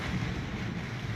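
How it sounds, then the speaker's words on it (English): Hurricane Dorian's wind and floodwater batter a house, heard as a steady, loud roar of wind and rushing water with no break and no voices. "how the water is just battering because you got the wind and the water together"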